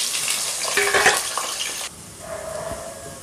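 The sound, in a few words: onions frying in oil with whole spices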